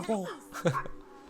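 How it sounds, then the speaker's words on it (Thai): A dog near caves in the Dordogne lets out two short, close yelping barks, with a voice alongside. "ผมขอบันทึกเสียงก่อนมีเสียงหมาเห่าอะ"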